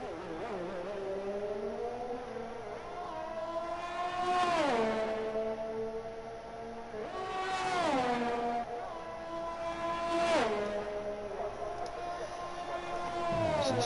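A Red Bull Formula One car tears down the long straight at Baku in a racing video game, its engine whine climbing through gear changes in three rising sweeps, under a commentator's talk.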